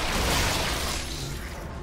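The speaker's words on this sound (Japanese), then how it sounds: "うわ爆発した。" An explosion in the video game Resident Evil 6, a loud broadband roaring blast that fills the short moment and slowly fades, with no voices over it.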